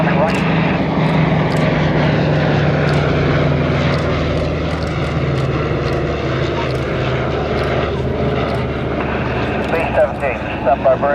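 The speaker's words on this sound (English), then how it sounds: "Mustang coming right." A P-51 Mustang makes a fly-past at the Sywell airshow in June 2024, its propeller engine a continuous loud drone under an announcer's voice.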